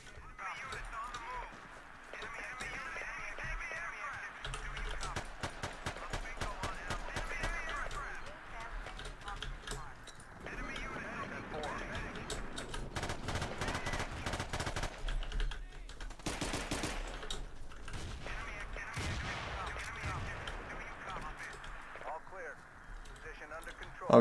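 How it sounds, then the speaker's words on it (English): Rapid distant gunfire rattles through a Battlefield 2 online match on Wake Island, with long crackling bursts of automatic fire, fairly faint, and a voice speaking over parts of it. "I was distracted with somebody firing from a large distance"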